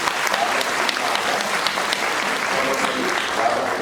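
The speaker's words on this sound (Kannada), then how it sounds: "ಅವ್ರಿಗೊಂದು ಚಪ್ಪಾಳೆಯನ್ನ ಕೊಡೋಣ" Children and guests at a Children's Day celebration in Vidhana Soudha break into loud, sustained applause, a dense crackle of many hands with sharper individual claps popping out, and a little crowd murmur underneath.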